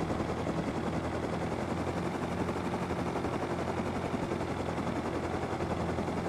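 A helicopter in the Rust video game, a steady loud rotor drone with thumping chop filling the whole stretch, close and constant with no talk over it.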